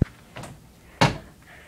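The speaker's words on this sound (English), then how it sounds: "close my door" A door swings shut in a dark room, giving one firm thud with a short knock, preceded by a softer rustle or bump and followed by quiet room tone.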